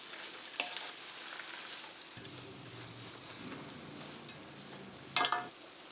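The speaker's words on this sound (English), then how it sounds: "We're going to saute them and allow the flavors to marry." Jamaican callaloo sautéing in a pan, a steady soft sizzle and crackle throughout with a couple of brief louder spatters near the start and end.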